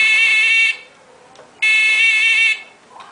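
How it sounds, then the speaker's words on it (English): Two loud, harsh buzzes from a small electric backup buzzer on a transmitter-controlled power switch, each lasting under a second with a short gap between, sounding close and shrill. "I'll just plug in this little backup buzzer I got."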